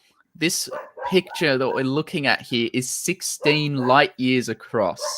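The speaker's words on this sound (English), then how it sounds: "I'm going to apologize for the dog barking in the background" A dog barks and yips in the background during an online talk about James Webb Space Telescope images, as a man lectures steadily over the short, repeated barks.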